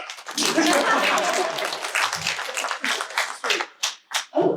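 Comic Con panel audience clapping, a scattered burst of hands that thins into a few separate claps, with voices talking and a chuckle mixed in.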